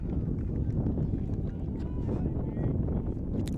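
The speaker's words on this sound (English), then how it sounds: "It's just windy." Gusty spring wind blowing across an outdoor boys' high school lacrosse game, a continuous low rumble buffeting the microphone, with faint voices under it.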